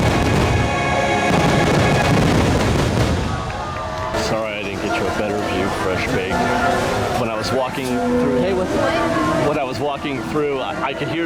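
Deep fireworks booms burst repeatedly over loud music and crowd noise at Disneyland at night, some blasts sharp and others rolling, with voices mixed in.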